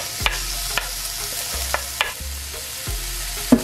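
Chopped tomato, onion, scallion and thyme hit a hot pan and sizzle steadily, with several sharp clinks and scrapes of a utensil stirring them at irregular intervals.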